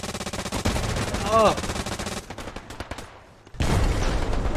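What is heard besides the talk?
machine gun fire in Hell Let Loose video game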